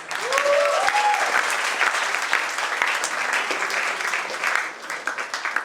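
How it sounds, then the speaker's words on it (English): An audience at a corporate talent show and awards event claps steadily and loudly for several seconds, a dense wash of applause that thins toward the end. "So clap for that."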